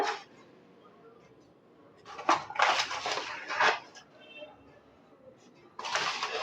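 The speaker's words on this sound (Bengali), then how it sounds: "এখন আমি এর মধ্যে চালের গুঁড়োগুলো চেলে নেব ছাকনির মধ্যে দিয়ে দিলাম" Rice flour is sifted through a metal sieve in a kitchen while making sora pitha. Scattered clinks and scraping rattles of the sieve and utensils come in short bursts with quiet gaps between them.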